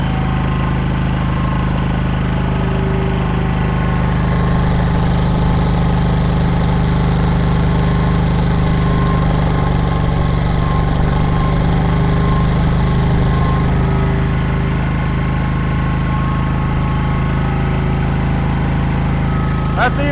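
A rare old air compressor runs steadily under pressure, its motor droning with a continuous mechanical hum and a slight rise in pace partway through, loud and close with no talking.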